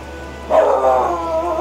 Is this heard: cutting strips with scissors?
no